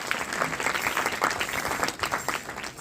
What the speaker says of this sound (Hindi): तालियां बजा करके स्वागत करें